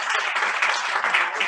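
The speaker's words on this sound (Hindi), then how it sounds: "तालियां बजती रहनी चाहिए" A crowd at a Republic Day celebration applauds, dense continuous clapping, loud and close throughout the short burst.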